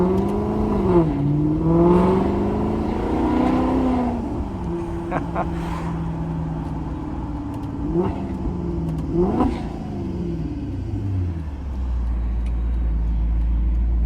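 A Maserati GranTurismo MC's loud exhaust fills the cabin with the windows down, revving up and settling through several rising and falling swells before sinking to a deep, steady drone.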